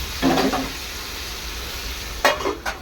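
A pan of spice paste for stuffed aubergines sizzles steadily at low level, with two brief bursts of stirring scrapes near the start and end, no voices.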